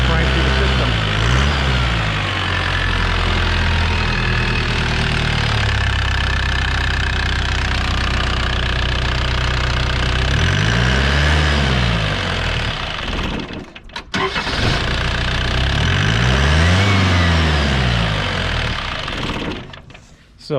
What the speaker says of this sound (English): So now it's running off of the gas vapors that are being sucked into the intake, and it'll run like that long enough to get fuel primed through the system